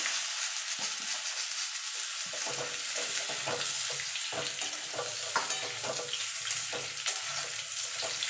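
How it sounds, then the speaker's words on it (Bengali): Papaya and potato pieces fry in hot oil in a pan, a dense, loud, continuous sizzle close by with intermittent scraping and stirring clatter throughout, no talking. "এই তেলে আমি পেঁপে আলুটা ভেজে তুলে নেব।"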